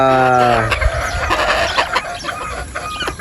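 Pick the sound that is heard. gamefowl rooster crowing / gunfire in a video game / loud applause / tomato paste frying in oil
gamefowl rooster crowing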